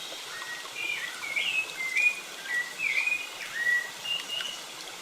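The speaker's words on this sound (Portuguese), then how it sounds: "ouvir o canto dos pássaros" Birdsong in a radio advertisement: a series of bright, repeated chirps and short whistled phrases, moderately quiet, over a faint steady background hiss, with no talking.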